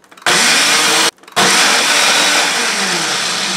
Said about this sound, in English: I just put it on my blender, and we're going to blend this into a nice foamy egg substitute.